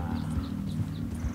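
Horse hooves clop in the Red Dead Redemption 2 video game, a steady run of muffled thuds over a dense low rumble of game ambience, with no talking.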